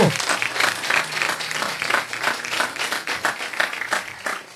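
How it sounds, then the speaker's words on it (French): A live plenary audience applauds to welcome an association onto the stage, dense sustained clapping filling the room for several seconds, close and steady with no speech over it. "si tu veux bien venir me rejoindre sous les applaudissements de la plénière"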